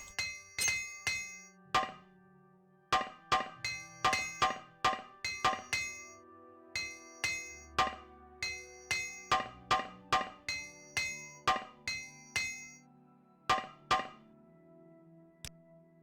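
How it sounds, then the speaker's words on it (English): A repair hammer clangs on armor in the video game Morrowind, sharp metallic strikes in quick bursts of two to four, repeated steadily at close range with no talk. "I can use up my repair hammers."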